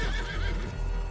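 A horse in the Western video game Red Dead Online lets out a short, loud, quavering whinny close by, with a hint of hooves, lasting about a second.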